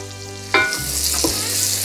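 Onions, celery, green onions and garlic sizzle in a hot pan for a corn and crab bisque, a steady close frying hiss broken by a couple of stirring scrapes, with no voices.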